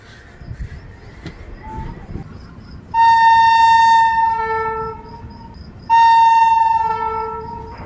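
The 12798 Chittoor–Kacheguda Venkatadri superfast express rolls slowly through Devarakadra railway station. A low running rumble gives way to two long, loud, multi-tone horn blasts, with a short pause between them.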